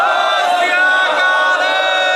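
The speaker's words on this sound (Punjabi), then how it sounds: "ਹੱਥ ਖੜੇ ਕਰਕੇ ਇੱਕ ਜਕਾਰਾ ਛੱਡੋ" Crowd at a Punjab election rally roaring a Sikh jaikara slogan in unison, a dense sustained chorus of many voices shouting together, loud and close, filling the whole moment.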